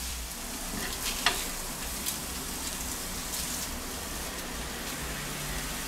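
Ostrich steaks sizzle steadily on a hot grill, a soft continuous crackling hiss with a few faint clicks.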